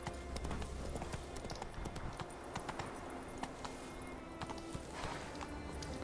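Horse hooves from The Witcher 3 sound as a steady, rapid clip-clop under game ambience, fairly close and continuous through the stretch, with no speech.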